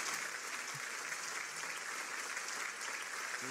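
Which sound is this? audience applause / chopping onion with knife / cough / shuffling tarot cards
audience applause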